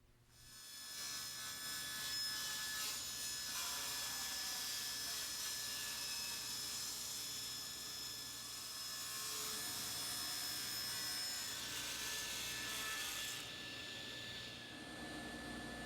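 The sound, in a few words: table saw with ripping blade cutting bevel in black walnut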